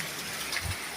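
Strong water rushes after a landslide, a loud continuous gushing roar heard close with no pauses across the moment.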